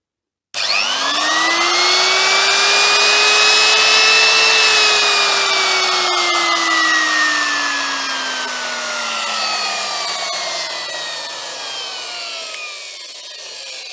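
Makita electric trimmer motor switching on and running steadily, a loud whining hum that rises in pitch after start-up, holds, then slowly sags, with no talking.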